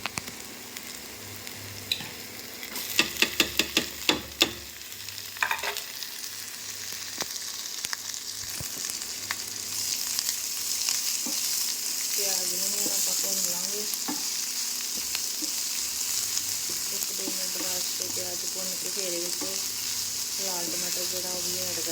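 Onion frying in a pan for sarson da saag gives a steady hiss that builds after a cluster of sharp clanks from a utensil early on, with scraping stirs and faint squeaky tones scattered through the later sizzle.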